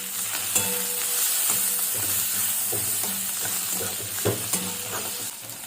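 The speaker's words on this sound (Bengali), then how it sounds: "আবারও নাড়িয়ে নেব।" Chopped tomato frying in a pan with bitter gourd for a Bengali dorma, stirred with steady scraping strokes over a continuous bright sizzle, with a few sharper clinks of the spoon against the pan.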